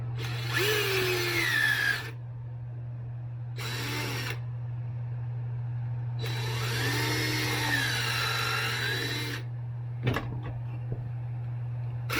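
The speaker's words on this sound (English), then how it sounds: "I'm going to drill them" Three bursts of a power drill whining, its pitch sagging and rising as it bites, over a steady electrical hum, then a sharp clank.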